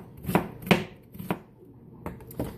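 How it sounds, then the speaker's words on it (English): A knife chops garlic cloves on a board in a series of distinct, close knocks, two sharp ones early, then a few more spaced strokes, with no talking. "I'm actually gonna just chop it up with the knife."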